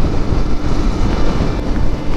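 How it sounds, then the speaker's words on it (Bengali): Strong, cold wind blows across open wetland near a town, buffeting the microphone with a loud, steady roar and rumble throughout. "দেখেন কীরকম বাতাস।"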